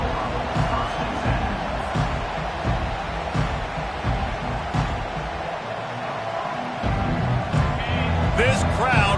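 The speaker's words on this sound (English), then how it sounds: "This crowd bringing an ear-splitting welcome to their visitors." A college football stadium crowd roars in a steady, loud wash of cheering and whoops, with scattered shouts rising above the din and a commentator talking over it.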